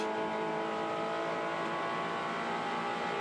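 Toyota 86 race cars on the final lap of a race at Pukekohe, a steady faint engine drone with no distinct pass-bys, heard from a distance without commentary.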